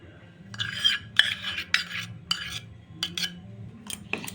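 A utensil scrapes and clinks in a bowl as egg yolks are beaten into cake batter, a run of quick uneven strokes at close range with brief pauses between bursts.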